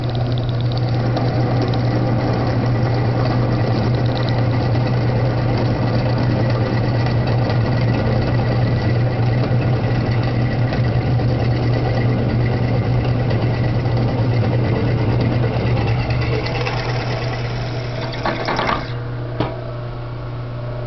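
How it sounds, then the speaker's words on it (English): A standard electric motor on a drill press runs under full load, giving a loud, steady hum with a constant low drone that holds evenly for the whole stretch, then eases slightly near the end, with no talking. "It's not an RV motor, just a standard motor that came with this drill press."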